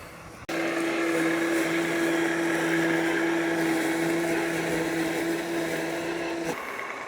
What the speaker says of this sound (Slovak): Taktiež je počuť, že ak výkonný brushless motor má iba malú záťaž, motor zníži otáčky, ak je trávnik vyššieho porastu, zvýši otáčky